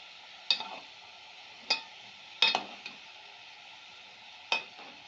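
Flat beans and potatoes are stirred in oil in a pan with fried onions. A spatula scrapes the pan in several close, irregular strokes over a steady, low sizzle.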